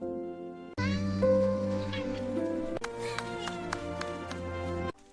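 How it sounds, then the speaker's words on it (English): A kitten meows repeatedly in high, rising cries, close and clear, with a few short sharp clicks and taps mixed in. "What a happy little kitten."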